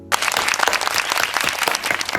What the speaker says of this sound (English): Clap hands for me